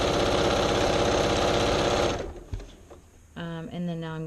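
Sewing machine stitching a quilt seam in charm pack fabric, a loud steady mechanical whir close by that stops after about two seconds. Softer handling noises follow, and then a voice speaks.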